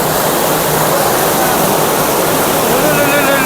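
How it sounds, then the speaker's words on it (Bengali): Clear river water flows at Jayanti in Buxa Tiger Reserve, with a loud, continuous rushing wash filling the whole clip close to the listener. "জলের ফ্লোটা দেখুন জাস্ট।"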